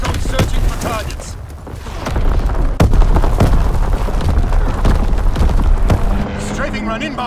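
Mortar rounds burst in a Call of Duty: WWII multiplayer match on the Shipment 1944 map, a string of heavy booms and thuds over dense battle noise, with game voice callouts running throughout.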